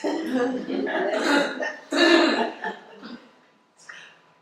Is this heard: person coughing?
yes